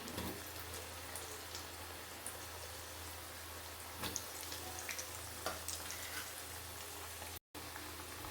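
Potato fries sizzle in hot oil, a soft, continuous crackle with scattered pops that holds steady throughout, with no voices.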